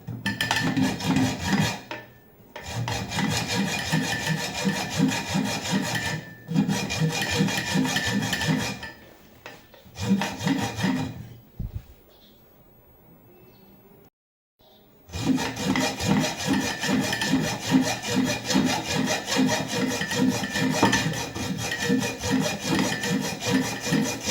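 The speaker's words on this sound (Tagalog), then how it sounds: "since it is heavily rusted, I'm going to put a slit at the center of the screw" Metal saw or file cutting a slit across the center of a heavily rusted screw, loud steady rasping strokes in long bursts with brief pauses, no talking.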